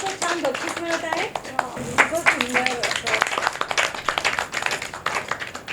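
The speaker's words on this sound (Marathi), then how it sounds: "अस्मिता ताईंसाठी जोरदार टाळ्या उमटवूया." An audience claps for a contestant at a family game show in Chandrapur, a steady burst of many hands close by, partly under a voice speaking over the applause.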